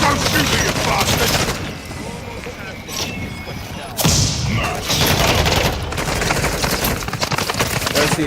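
Dense video game gunfire rattles in sustained bursts, loud and close, with a brief break and heavy booming impacts, under a busy game soundtrack.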